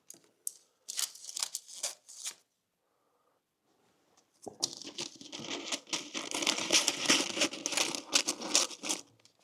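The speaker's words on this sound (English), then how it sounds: "cut all the excess paper that you don't need." Scissors trim excess baking paper to fit an air fryer basket, heard up close as a few short crinkly snips, a pause, then a longer run of steady crinkling and rustling.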